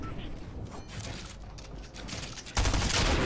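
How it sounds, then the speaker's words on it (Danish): Gunfire in the Fortnite video game, a dense burst of rapid shots and weapon mechanism clatter that grows louder near the end, with a player talking over it. "så rammer han et helt vildt godt clean skud"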